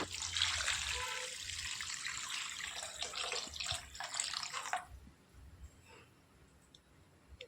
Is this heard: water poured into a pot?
yes